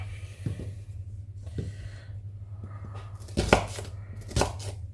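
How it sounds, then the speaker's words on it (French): Knife chopping shallots on a cutting board on a kitchen island, a run of soft irregular taps followed by two louder, sharper cuts, close and alone. "Donc là, on va ciseler les échalotes."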